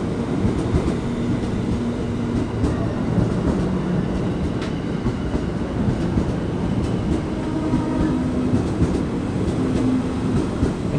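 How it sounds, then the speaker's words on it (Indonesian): A KRL JR205 commuter train of 12 cars pulls into platform 5 from Bekasi, bound for Kampung Bandan, with a loud, steady rumble and rolling clatter that fills the whole stretch. "Ini KRL JR205 dari arah stasiun Bekasi tujuan Kampung Bandan via Pasar Senen, masuk di jalur 5."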